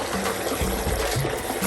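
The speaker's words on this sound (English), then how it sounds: "I'm just going to wash this off with a little bit of water." A short, steady pour of water rinses leftover curry paste from a mixer jar, giving a close, continuous splashing trickle with no voices.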